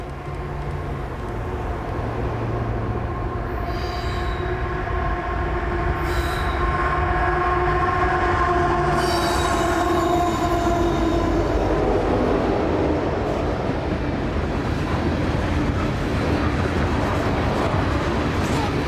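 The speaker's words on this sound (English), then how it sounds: "one of BNSF's 25th anniversary locomotives leading a Montana Rail Link SD70 Ace" A long freight train led by a BNSF 25th anniversary locomotive with a Montana Rail Link SD70ACE rolls past close by, a loud, steady rumble of wheels and cars with metallic wheel squeal rising over it.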